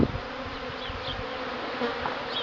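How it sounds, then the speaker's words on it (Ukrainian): Honeybees on a cleansing flight outside the hive in early spring make a steady, dense outdoor buzz, with individual bees whining past close by now and then. "Нарешті на вулиці потепліло і от можна спостерігати непоганий обліт бджіл."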